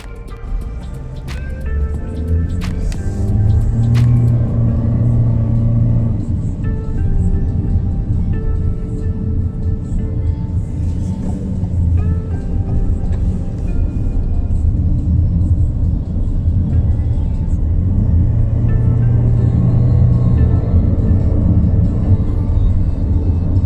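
A 2021 Toyota Corolla Cross cruising on a highway in Sarawak, Malaysia: steady low road and engine rumble with constant cabin noise throughout, with no talking.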